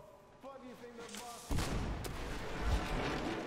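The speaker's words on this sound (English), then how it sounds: "I'm gonna just chuck a nade right under this guy's table" A grenade explodes under a table in the video game Metro Exodus, a sudden loud boom with a rumbling tail that follows a moment of speech.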